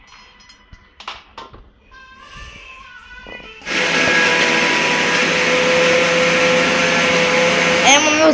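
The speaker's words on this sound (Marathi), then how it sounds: "हे मिक्सरचं आहे ना आपला फूड प्रोसेसर" Food processor from a mixer set grinding dry fruits, kicking in after a few seconds of quiet kitchen sounds and light clatter, then a loud steady whirring roar that runs without a break.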